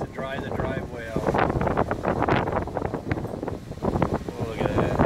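Steady gusting wind on a hot day at a site where cobblestone concrete has been poured buffets the microphone with a low, rough rumble throughout, while voices murmur underneath.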